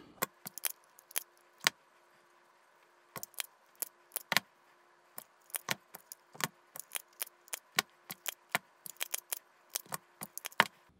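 Scissors snip relief cuts into screen mesh for a homemade crayfish trap cone, giving sharp, close, irregular clicks in small clusters separated by brief pauses.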